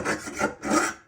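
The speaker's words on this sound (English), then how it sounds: "I just took a file, like a round file like that" A round file rasps against burrs inside a bicycle steerer tube, two or three close, scraping strokes in quick succession.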